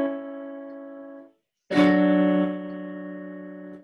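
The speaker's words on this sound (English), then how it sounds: "The final cadence would sound like this." Two sustained chords of a final cadence, probably on a keyboard, ring out one after another with a short silence between, the second struck louder and fading slowly, no talk.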